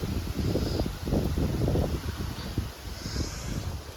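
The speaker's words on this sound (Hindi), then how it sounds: "ठंडी हवा चल रही है" Cold wind blows outdoors around a village of mud houses, a gusty rushing noise with fluctuating loudness buffeting the microphone up close, with no voices.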